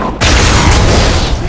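Loud, close bomb blast in the video game Marvel's Spider-Man, a sudden heavy boom bursting in after a brief quiet moment and rolling on as a dense, rumbling roar.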